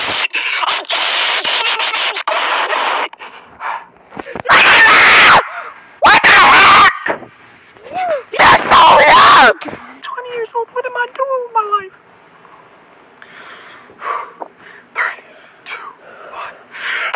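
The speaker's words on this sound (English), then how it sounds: "Is my loudest scream ever, loudest scream ever." A young man shrieks as loud as he can inside a closet. Several harsh, distorted screams of about a second each come close and at full volume, broken up by shouted and whispered talk.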